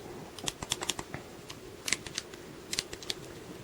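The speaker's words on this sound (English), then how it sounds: "I'm going to type in" Clicky keystrokes tap out on an Adapt Mobile Bluetooth keyboard for iPad, quiet and close, in uneven short bursts with brief pauses between groups of keys.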